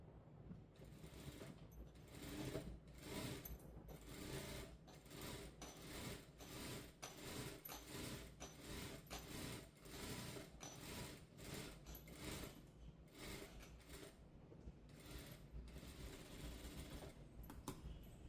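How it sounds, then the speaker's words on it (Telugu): A sewing machine runs steadily and close, its rapid mechanical clatter continuous throughout while stitching a second seam on a girl's double-layer frock. "దీని పక్కన ఇంకో కుట్టు వేసుకుంటున్నాను."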